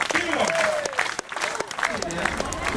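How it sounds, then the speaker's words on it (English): A group of people claps along at a lively performance in Hawaii, with crisp, uneven claps close by under excited voices and shouts. "Clap on me."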